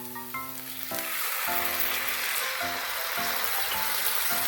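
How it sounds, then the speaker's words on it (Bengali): Water poured into a pan of onions and ginger frying in oil for an egg and soybean curry, setting off a loud, sudden, sustained hissing sizzle that stays steady to the end over faint background tones, with no talk. "এবার এর ভিতরে সামান্য জল দিয়ে দেব।"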